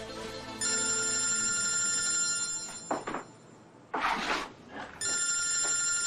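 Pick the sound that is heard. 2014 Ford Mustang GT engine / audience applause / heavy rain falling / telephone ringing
telephone ringing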